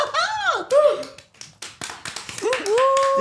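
Hands clap in quick irregular bursts, about a dozen sharp smacks, mixed with lively voices talking and exclaiming.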